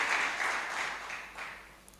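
Church congregation applauding during a worship service, a soft, distant wash of clapping that slowly fades over two seconds.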